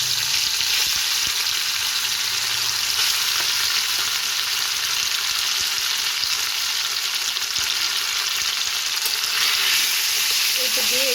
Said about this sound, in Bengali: মাছের এটা মিশ্রণটা আমি এর মধ্যে দিয়ে একটু নেড়ে নেব।